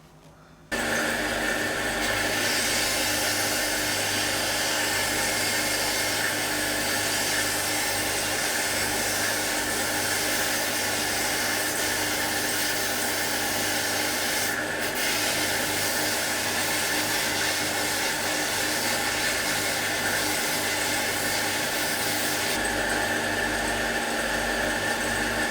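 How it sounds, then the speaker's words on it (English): A linisher belt sander shapes the tips of a wooden longbow so they can take horn nocks, giving a loud, steady motor whine and abrasive hiss that kicks in abruptly and runs without break, with no speech. "So it'll be over to the linisher."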